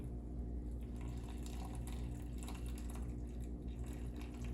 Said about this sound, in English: Take another clean container, pour that solvent off very carefully